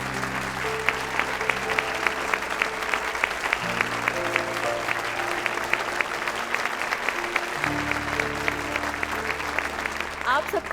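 Sustained applause from a stage audience greeting a speaker at an event, steady dense clapping throughout with background music tones underneath.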